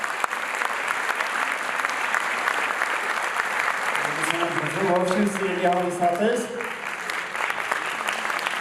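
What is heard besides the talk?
concert audience applause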